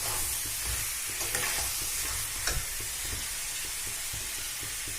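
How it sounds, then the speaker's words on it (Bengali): Water poured over sautéed chicken curry in a hot pan hisses and sizzles steadily, with stirring scrapes and a brief burst of steam, close and continuous with no voices. "এবারে এর মধ্যে একটু জল দিয়ে দেবো যাতে আমাদের মাংসটা সেদ্ধ হয়ে যায়"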